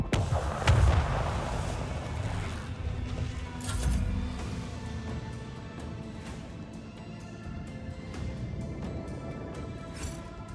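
Torpedoes fire in Warhammer 40k: Rogue Trader as deep booming launches and rumbling blasts, loudest near the start and around the four-second mark, then a sustained lower roar with scattered sharp pops.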